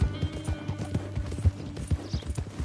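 Horse hooves clip-clop steadily at a walking pace in the video game Red Dead Redemption 2, close and distinct, with faint creaks of tack between the beats.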